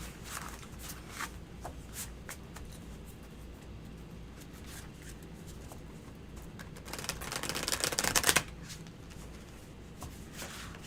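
A tarot card deck is shuffled in bursts of soft riffling and sliding, growing busier and louder toward a dense flurry near the end before cutting off, with no one speaking.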